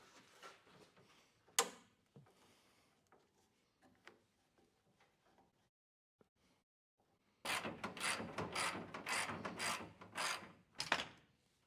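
Ratchet removing hidden screws from a 1992 Ford F150 during teardown, scattered clicks and knocks, then a loud close burst of rapid ratcheting clicks near the end.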